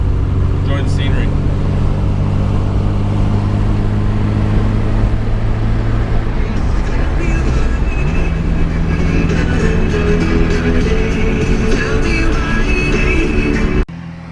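A 1971 Datsun 510 wagon with an upgraded L20 engine and a 200SX five-speed drives along, giving a loud, steady engine drone with shifting tone from inside the car, then a sudden drop in level at the end.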